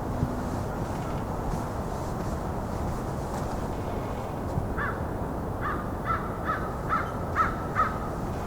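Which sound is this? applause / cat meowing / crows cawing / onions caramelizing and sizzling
crows cawing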